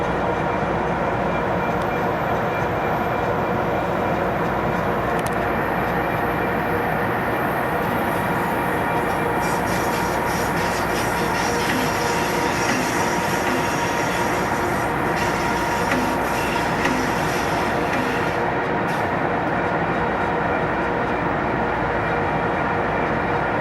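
Amtrak California Zephyr passenger train climbing through the Colorado Rockies, heard from inside as a steady, loud rumble of wheels on rails with continuous rolling noise and faint rattles throughout, no voices.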